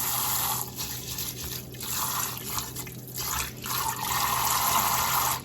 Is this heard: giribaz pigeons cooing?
no